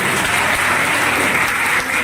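An audience at a Bairagi community gathering claps steadily and densely in a short burst of applause.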